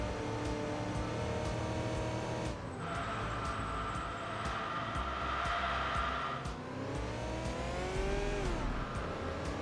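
A synthetic sport sedan engine in the racing video game Enthusia Professional Racing hums and revs steadily, rising in pitch in a sustained surge mid-way, then easing and climbing again, with no talking.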